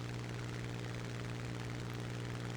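Spitfire Mk IX fighter with a Packard Merlin engine in War Thunder, its engine a steady deep droning hum with a strong low tone, constant and even throughout, heard alone without talk.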